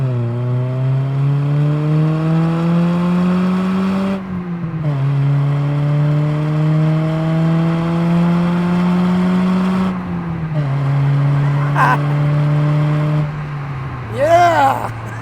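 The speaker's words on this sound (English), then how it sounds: "You ready for this Fast and Furious launch on the fit?" A 2007 Honda Fit GD3 launching hard, its engine revving up through several gears in rising loud sweeps with brief dips at each shift, heard from inside the cabin, with a short exclamation near the end.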